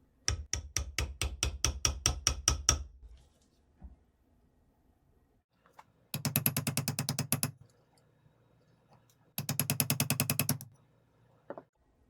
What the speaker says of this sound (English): I'll use a punch through the bottom of the frame to push the metal back in place.